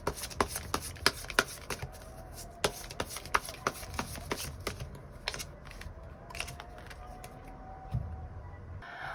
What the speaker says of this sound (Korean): 3번 분들 추가 카드로 이번 9월을 더욱더 잘 살아가기 위한 조언의 카드 무엇이 있을지 뽑아보도록 하겠습니다